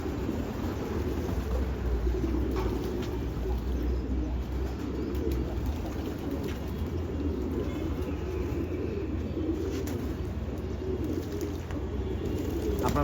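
Pigeons coo softly and steadily in a loft on a hot afternoon, low repeated calls blending into a constant murmur with occasional faint chirps.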